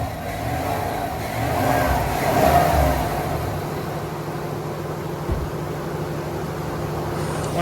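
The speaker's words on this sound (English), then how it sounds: "so I'm gonna rev it one more time" A 2019 GMC Yukon engine revs once, swelling to a peak and then easing back to a steady idle, heard alone without talk.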